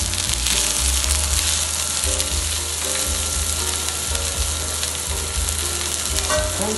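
Green chillies and five or six whole garlic cloves, cut into pieces, fry in a pan for a dried shrimp chutney. Steady crackling and sizzling carry on without a break, with faint stirring scrapes and no talking.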